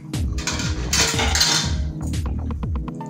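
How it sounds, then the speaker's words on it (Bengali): Fish pieces dropped into a pot of curry with vadi and brinjal, giving repeated metallic clinks and clatters of utensil against pot, with a brief splashy rustle in the middle. "বড়ি দেওয়ার পরে মাছগুলো দিয়ে দিচ্ছি"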